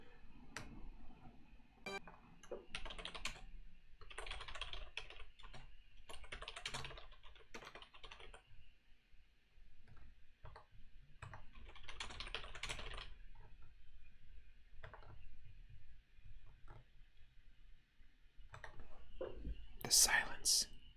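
Someone types on a computer keyboard in bursts of rapid, close, quiet key clicks with short pauses between them, alongside soft whispered speech during a Super Mario randomizer gaming stream.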